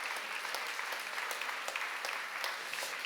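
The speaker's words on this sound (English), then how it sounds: "Could we give them a huge World Health Wellness round of applause?" A conference audience gives a steady round of applause. It sounds dense and even, with many hands clapping at a moderate distance for a few seconds and no voices above it.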